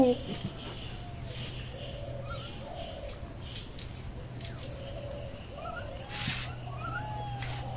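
A cat meows softly several times in a village home kitchen, short rising cries spread across the clip over a steady low hum, with a person talking quietly nearby.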